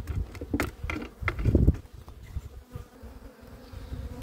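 A newly arrived honey bee swarm buzzes around a hive with close, irregular bursts of droning wings and light rustling and patter, fairly quiet overall with no speech.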